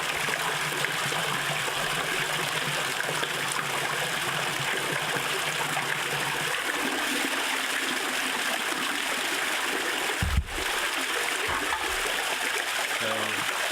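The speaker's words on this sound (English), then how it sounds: "I'll turn those off to give me the full effect of the waterfall." Pump-fed waterfall pours steadily into a custom-built above-ground pond, a continuous broad splashing rush close by, with a brief thump near the end and no talk over it.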